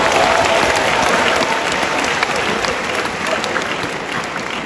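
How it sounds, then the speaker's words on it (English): Teachers applauding at a World Teachers' Day celebration in Ogun State, 2024: sustained, dense crowd clapping from a large audience, steady and loud throughout with a slight fade near the end. "If you are a teacher, clap for yourself."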